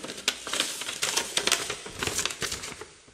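A paper letter is unfolded close by with quick crinkling and crackling rustles, some louder than others, over about three seconds. No speech.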